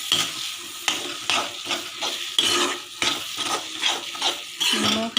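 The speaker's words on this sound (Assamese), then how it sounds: "নিমখ হালধি ভাজি পেলাই দিব লাগিব" Repeated scraping stirs of a spoon in a hot pan as spices fry with salt and turmeric for an elephant-foot yam and fish curry, with a soft sizzle beneath each stroke.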